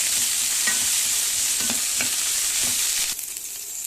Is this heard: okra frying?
yes